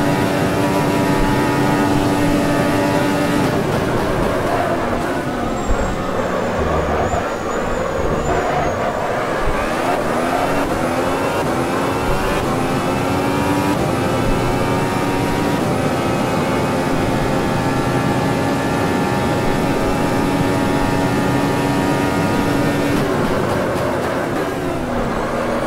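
A 2017 F1 car's engine at Monza in the Automobilista racing game, whining loudly and continuously with pitch sweeping up through gears and dropping on lifts, heard up close without talking.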